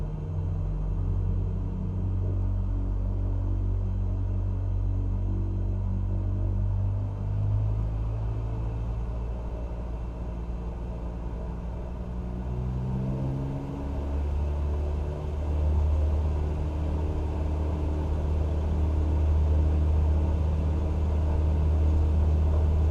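A low, heavy rumble of an airliner's engines rolling down the runway and lifting off in Microsoft Flight Simulator 2020, a steady loud drone that holds throughout with a subtle shift in pitch partway through.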